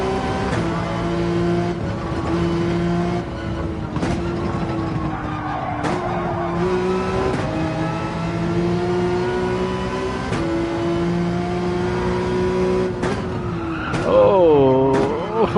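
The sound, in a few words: race car engine and tyre squeal, Gran Turismo 7 video game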